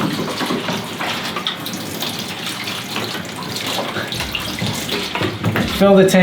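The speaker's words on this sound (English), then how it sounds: "Ilford's recommended method is basically fill the tank" Water runs and gushes into a film developing tank during a black-and-white film wash, a steady splashing flow that rises in pitch as the tank fills near the end.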